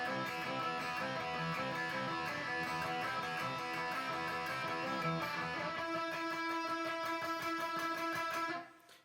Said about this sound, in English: you'll notice it's just a unison lick because they play the same notes